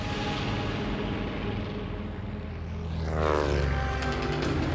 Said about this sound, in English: Gidcombe eased back the throttles and the 4 engines of the B-17 powered the heavy plane up into the sky.